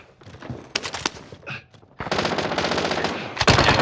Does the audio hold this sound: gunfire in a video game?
yes